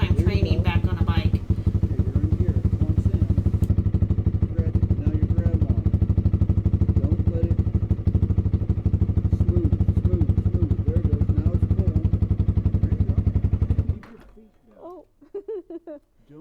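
A 2023 Honda Rebel 300 motorcycle runs steadily and loud close by with a continuous engine drone for most of the stretch, then cuts away abruptly to quieter background with a few faint sounds.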